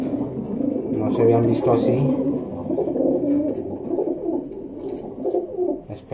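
Racing pigeons coo steadily in a loft or race setting, a soft continuous murmur of calls running beneath someone speaking Spanish throughout.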